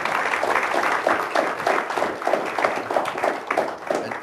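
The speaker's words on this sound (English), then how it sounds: "And especially a round of applause for Ed for coming down" A small audience applauds Ed Bilsky after a talk, moderately loud clapping with a loose rhythmic pulse that holds steady for a few seconds.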